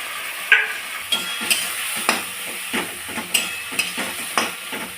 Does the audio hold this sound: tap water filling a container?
no